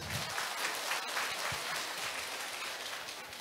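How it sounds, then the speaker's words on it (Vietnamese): A church congregation gives a warm round of applause to thank the children, a dense steady clapping that fills the room, with no voices over it. "Chúng ta một tràng pháo tay nữa để cảm ơn các bé."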